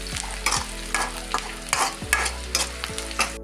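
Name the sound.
red shallots and curry leaves frying in a pan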